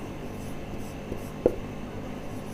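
A chemical equation is written on a board in soft, faint scratching strokes with a single sharper tap midway, heard close and quiet over a low room hum.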